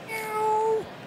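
A single drawn-out cat meow from a baseball management video game, clear and fairly close, rising and then bending down at the end. It stands alone with no talk over it.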